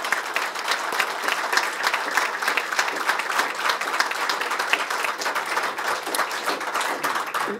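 An audience applauds an award recipient at a ceremony, giving sustained, dense, even clapping that holds steady from start to finish, moderately loud and filling the room.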